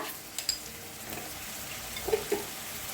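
Masala with turmeric, sabzi masala and red chilli powder roasting in oil in a pan, giving a soft, quiet sizzle with faint stirring scrapes and a couple of light clinks.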